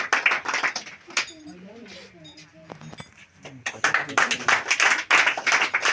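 Children at a Children's Day prize ceremony clap in bursts of sharp applause, loud and close, with an adult voice speaking between the rounds of clapping.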